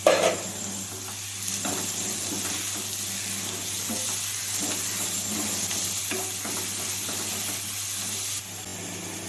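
Carrots, beans and tomato sautéing in a pan give a steady close sizzle and hiss, with soft scraping stirs running throughout and no talk.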